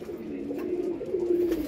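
Blue chequer pigeons give a brief, low, sustained coo, close and fairly clear, with no talking.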